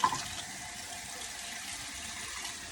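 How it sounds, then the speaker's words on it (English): Water pours steadily into a cooking pot in a continuous splashing stream, close by and even in level, beginning with a small splash. "I'm just gonna add a little bit more water"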